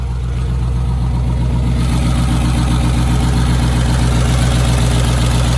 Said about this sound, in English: Y'all hear the motor? It don't sound good.